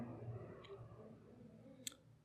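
A single sharp computer mouse click on the track button of a courier tracking website, brief and close over quiet room tone.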